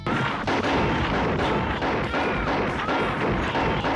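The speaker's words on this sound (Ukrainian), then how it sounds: "Банда вирішила спочатку помовчити Алекса, відстрелили йому руку, а вже потім розстріляли" Dense, rapid bursts of gunfire from the film RoboCop (1987) rattle continuously at high volume, shot after shot with no pauses.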